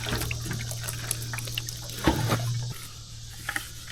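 Water is poured onto soil around trees, a faint trickle and splash that swells briefly in the middle under low outdoor background noise.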